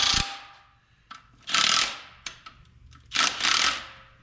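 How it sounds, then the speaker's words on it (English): A torque wrench tightening bolts on a 12-valve Cummins engine during a rebuild, heard as close, loud bursts of metallic ratcheting separated by short pauses and light clicks. "And torque on these, if you want to torque them,"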